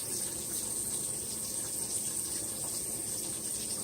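Raspberries being rinsed under a running kitchen tap, a steady, even hiss and patter of water flowing continuously at moderate level with no talk.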